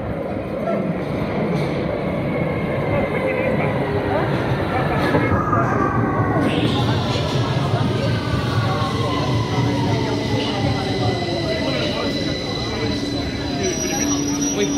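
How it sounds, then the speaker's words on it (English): A London Underground Victoria line train rides along with a steady loud rumble and rushing noise throughout, rising and falling whines from the motors, and faint voices beneath. "time to get the Victoria line back to Euston"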